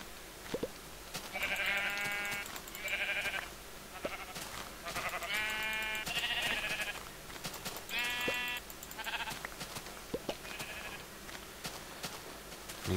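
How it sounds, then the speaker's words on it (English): Several blocky sheep bleats from Minecraft sound in short bursts through the stretch, fairly close and clear against a quiet game background, with no talking. "Should I kill a sheep too?"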